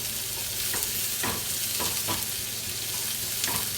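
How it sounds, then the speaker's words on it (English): Vegetables sautéing in a small sauté pan for a breakfast frittata, a steady close sizzle with a few scraping stirs of the utensil across the pan. "as we continue to go ahead and saute this up a little bit,"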